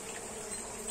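Mandaçaia bees buzz around a clay hive during evening external feeding, a faint, steady close drone of wings with no voices.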